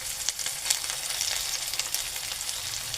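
Steady, close sizzling and crackling fills the whole stretch as stuffed bitter gourds sauté in a pan, with occasional soft pops and no speech over it.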